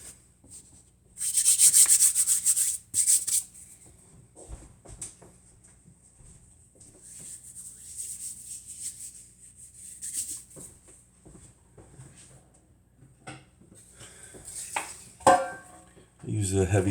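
A heavy black metal loaf pan for sourdough bread is readied with close, loud rubbing and scraping strokes in a short burst near the start, followed by quieter intermittent handling and rubbing sounds.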